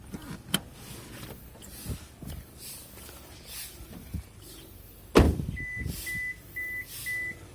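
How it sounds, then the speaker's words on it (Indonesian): Warning beep from a 2013 Suzuki Swift GX manual when the smart key is not detected: four evenly spaced short tones near the end, following a loud door-like thump and faint car noises. "bunyi tersebut mengindikasikan bahwa kalau kunci smart key-nya nggak terdeteksi oleh sistem mobilnya"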